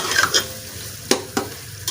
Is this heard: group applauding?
no